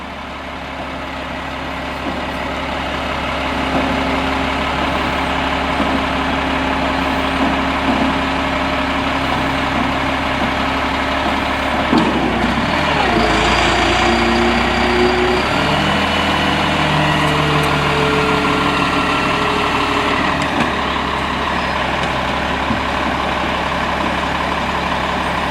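A delivery truck idles with a steady low diesel rumble while roof trusses are slid off its bed on rollers; a brief scraping, clattering burst rises midway over the constant engine drone.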